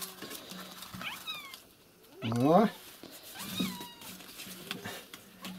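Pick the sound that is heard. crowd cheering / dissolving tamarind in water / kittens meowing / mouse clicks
kittens meowing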